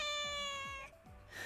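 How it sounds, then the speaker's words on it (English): A cat gives one long, drawn-out meow, close and loud, that tapers off near the end, followed by faint room noise. "she's going to come meow for us."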